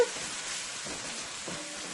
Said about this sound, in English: And you wanted your tomato paste to fry into your oil for about 2 to 3 minutes.